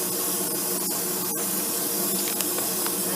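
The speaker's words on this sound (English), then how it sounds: "spray away from them so you're not" A water sprayer hisses in a steady continuous spray over a puppy being groomed, held close and even throughout with no talking.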